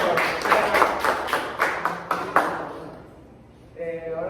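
A small group claps in a classroom, about nine loose, rhythmic claps in quick succession that fade out, followed by a brief voice starting to speak at the end.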